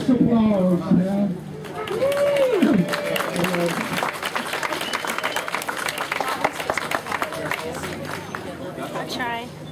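A crowd at a Charlottesville ceremony for a time capsule unearthed from 1962 breaks into sustained, dense clapping after a short stretch of someone speaking, with the applause continuing to the end.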